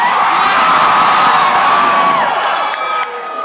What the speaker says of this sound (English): Don't fucking cheer at the concept of us dying.